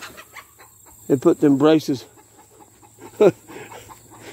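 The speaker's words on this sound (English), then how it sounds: "That's our cat food loving chicken." A backyard chicken clucks in several quick bursts, then gives one more cluck a moment later, fairly close and clear, while someone speaks briefly and faint outdoor background sounds continue underneath.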